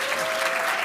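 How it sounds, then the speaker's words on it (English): Conference audience breaks into applause, a dense, continuous wash of many hands clapping at steady level, brief and filling the room. "we want a big round of applause for Igor."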